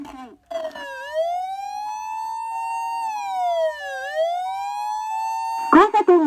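An OPS-5101V-Q ambulance siren amplifier sounds a loud, close, rising and falling wail that sweeps slowly up and down in long cycles, with brief Japanese announcement speech at the start and end.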